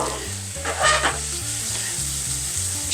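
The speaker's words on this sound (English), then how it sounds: "Now I got my smaller saute pan, and what I'm going to do is I'm going to put in peppers, onions, garlic" Peppers, onions and garlic sizzling and frying in a smaller sauté pan, a steady crackling hiss with a few louder spatters near the start, close and continuous with no talking.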